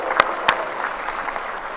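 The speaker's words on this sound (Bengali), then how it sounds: "আমরা সবাই একটু জোরে করতালি দিই তার সম্মানে।" Applause from a crowd at a BNP public rally in Jessore, Bangladesh: a couple of sharp individual claps near the start, then a steady wash of clapping at moderate volume, with no talking.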